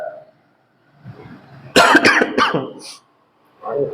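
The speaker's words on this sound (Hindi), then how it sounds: "खांसी बहुत आ रही है" A person coughs several times in a harsh, rapid burst, with short bits of speech before and after.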